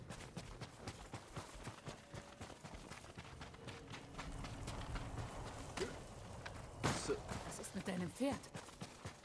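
Galloping hoofbeats of a horse in Ghost of Tsushima pound in a quick, steady rhythm, joined by game sound effects and bursts of clatter, with voices talking over them.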